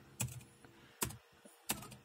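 A password is typed on a computer keyboard in three sparse, quiet clicks spaced well apart, close to the microphone in an otherwise quiet room.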